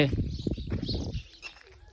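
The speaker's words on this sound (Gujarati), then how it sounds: "ખાલી પક્ષીઓનો અવાજ આવે" Birds call faintly in the background at a seaside temple, with soft cooing and a few chirps, partly under nearby speech.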